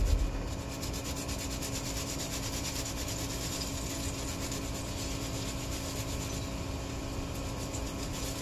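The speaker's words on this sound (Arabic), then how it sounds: "نزيد واحد جوج صوص ديال الثومة نحكهم" Garlic cloves rubbed against a metal grater while cooking a Moroccan sardine tagine, a close, continuous scraping rasp in quick even strokes, with no talking.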